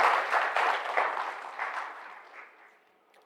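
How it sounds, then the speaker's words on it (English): Audience applause in a conference hall after a presentation. Clapping from many hands is steady at first and slowly fades out. "for his bravery, he certainly deserves a bigger round of applause"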